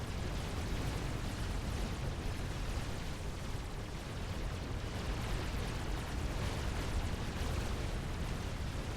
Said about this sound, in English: Fat boy still firing away at it, and finally down he goes.